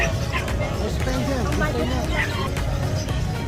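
Dogs bark now and then amid a busy crowd hubbub at the Bocaue pet market, with people chattering close by and steady background noise throughout.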